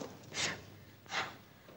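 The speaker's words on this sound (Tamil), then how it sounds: "ஓ, ஆனை மூச்சு விடுது போல இருக்கு." Two heavy, breathy exhalations from an elephant, each a broad hiss lasting about half a second, spaced roughly 0.7 seconds apart at moderate loudness with no talk over them.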